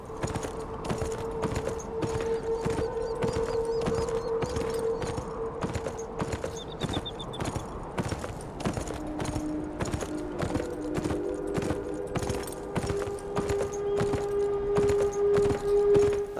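Horse hooves in the video game Beyond: Two Souls clip-clop in a steady, brisk rhythm throughout while someone rides, with a sustained siren-like tone and music underneath.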